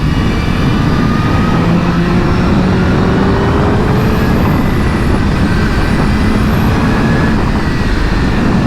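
A 2026 BMW M1000RR motorcycle at speed, its engine a steady loud roar blended with heavy wind rush, continuous and close throughout.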